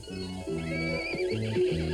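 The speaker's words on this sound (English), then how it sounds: "There was this black horse who walked behind a picket fence." A horse whinnies close by, a short wavering neigh lasting about two seconds.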